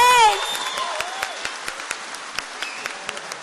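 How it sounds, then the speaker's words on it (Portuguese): Scattered applause from a small church congregation, with sharp individual claps, follows a sung or spoken phrase and tapers off. "Uma salva de palmas, parabéns!"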